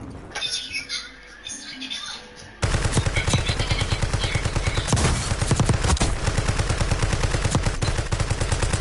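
Dense rapid gunfire from the Black Ops 6 Warzone battle royale on the Rebirth map bursts in abruptly after a quieter stretch, then continues loud and steady with rattling automatic bursts throughout.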